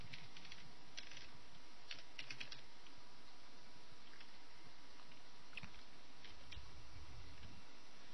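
Soft, quick typing on a computer keyboard, irregular bursts of light key clicks running steadily for several seconds, faint and close with no talk over it.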